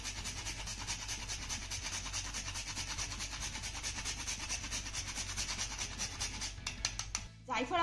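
Nutmeg rubbed against a small grater while making a traditional jaggery sweet, a steady close scraping rasp that runs continuously before ending abruptly near the close.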